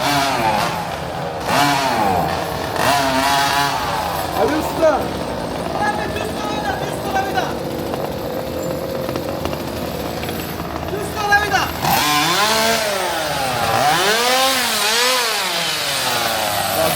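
A remote control RC car engine runs with a buzzing, rising and falling whine as it revs and moves about, loud and close, while people talk over it.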